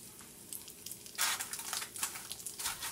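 An aloo pie, a potato-filled pastry, fries in hot oil with a steady close sizzle and crackle, swelling in a few louder bursts.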